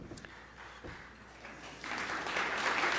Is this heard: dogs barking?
no